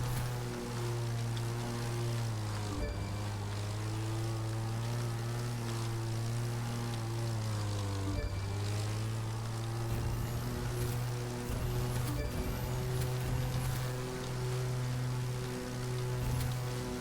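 A propeller plane engine drones steadily in a flight game, with a low, constant hum and pitch dips as the aircraft maneuvers through gates, sustained and close with no talking.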